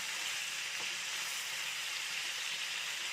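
Chicken pieces fry in a pan, producing a steady, even hiss of sizzling oil, close but fairly soft, with one brief faint knock as pieces are turned and no voices.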